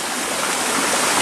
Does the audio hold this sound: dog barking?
no